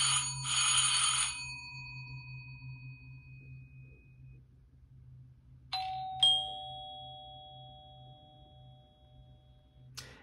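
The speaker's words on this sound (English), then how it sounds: "another phone here with a YouTube video going to play a doorbell" A doorbell chimes twice, each ring a bright tone fading out, separated by quiet; the sound is slightly tinny, played from a phone's small speaker.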